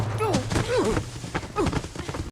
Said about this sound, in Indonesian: si tentara pun menembak Joel serta Sarah